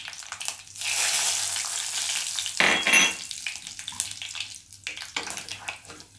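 Mustard seeds spluttering in hot oil for a shallot and tomato kuthippu curry, a steady loud crackling sizzle with a sharper burst of popping midway, fading then flaring again, with no talk.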